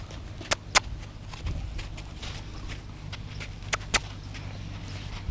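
Slow, sharp hoof clops from a horse walking nearby, a few distinct strikes spaced irregularly over a low steady rumble.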